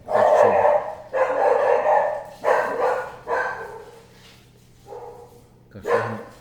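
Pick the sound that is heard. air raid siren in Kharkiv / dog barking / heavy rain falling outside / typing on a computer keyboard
dog barking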